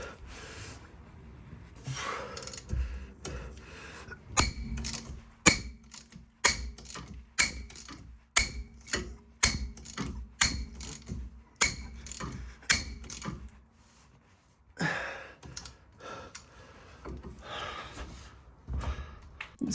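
A ratchet cranks hard on seized front wheel bearing bolts of a BMW E90 320d, giving a close, loud series of rapid clicking bursts with pauses and effortful breaths between strokes.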